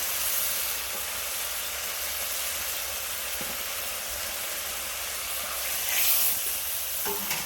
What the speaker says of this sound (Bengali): ভালো করে মশলাটা আমি কষিয়ে নেবো